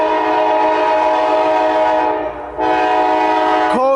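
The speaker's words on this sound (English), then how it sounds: "Coal train." A loaded CSX coal train sounds its horn in a long, loud, sustained chord that briefly dips and resumes, with rumbling rail noise beneath as the train passes close by.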